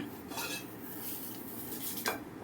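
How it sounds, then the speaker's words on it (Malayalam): Cooked long beans scooped from a pot into another vessel, with soft metallic scrapes and light clinks of a utensil against cookware, close by and fairly quiet with no talking. "വെന്ത അച്ചിങ്ങ വേറൊരു പാത്രത്തിലേക്ക് പകർത്തി മാറ്റുകയാണ്"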